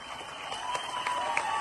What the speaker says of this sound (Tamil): இப்போ ஒரு லீடர் வரும் பொழுது நீங்க கை தட்டி ஆரவாரம் பண்றீங்க பாத்தீங்களா?